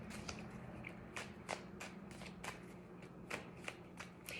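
Tarot cards being shuffled in a steady run of soft riffling bursts and light slaps, with one more card drawn from the deck; fairly quiet and close, with no voices.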